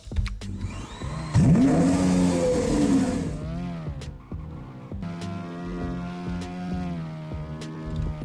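In the Mega Mansion Tycoon 2 video game, a Herman i300 car spawns with a rising engine whine and rev, followed by a steady humming idle with a few sharp clicks over it.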